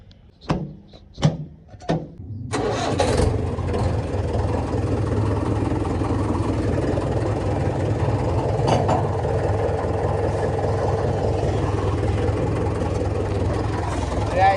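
A tractor engine starts after a few knocks and clatters, then runs at a steady loud rumble while driving for the rest of the stretch.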